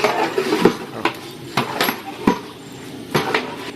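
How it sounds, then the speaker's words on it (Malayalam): A spoon stirs Malabari-style mutton korma in a metal pot, giving irregular clanks and scrapes against the pot at close range, with a few sharper knocks. "അതെ, നന്നായിട്ട് ഇളക്കിക്കോ"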